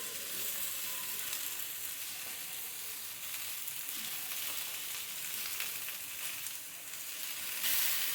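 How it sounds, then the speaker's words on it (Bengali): Steady, crackling sizzle of large fish pieces frying lightly in hot oil in a pan, continuous and fairly loud throughout with no voices. "মাছের তাওয়ায় ভেজে নিব হালকা করে"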